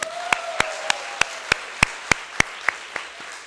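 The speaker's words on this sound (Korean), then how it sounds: "이 모든 것들을 행하실 하나님께 영광의 박수 돌립니다" A church congregation at a teachers' gathering claps in unison to give glory to God, about a dozen sharp, evenly spaced claps in a steady rhythm, fairly close, with a faint sustained tone under the first second.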